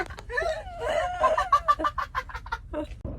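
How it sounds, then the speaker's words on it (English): Rooster heard outdoors in the Australian outback near Coober Pedy, a nearby series of squawking, clucking calls rising and breaking across a few seconds, fairly loud with no talking over it. "What did you think of that rooster?"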